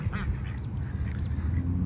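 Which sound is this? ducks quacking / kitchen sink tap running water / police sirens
ducks quacking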